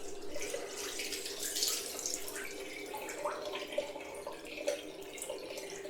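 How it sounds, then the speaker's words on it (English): Cold tap water runs steadily into a sink, rinsing alum off a freshly shaved face, a continuous close splashing wash with small drips and splashes rising above it, no talking. "I'm now washing this off in cold water."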